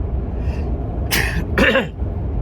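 One loud, close sneeze, a sharp burst with a voiced tail, after a faint breath.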